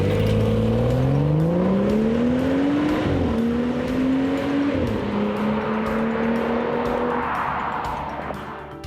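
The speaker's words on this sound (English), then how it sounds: "that sport exhaust note in your ears" A 2015 BMW 435i xDrive Cabriolet's sport exhaust roars steadily and loudly, its pitch climbing and then dropping as gears shift, with a brief snarl at each change.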